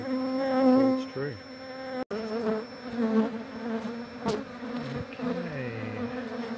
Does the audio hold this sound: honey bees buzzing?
yes